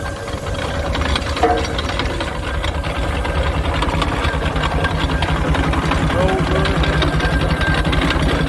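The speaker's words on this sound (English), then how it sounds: "So this green engine coming through now is built by Richard Hornsby, so 1888." An 1888 Richard Hornsby steam engine runs at a rally with a steady, rapid mechanical chuffing and knocking beat, loud and close, with a brief whistle-like tone and crowd noise around it.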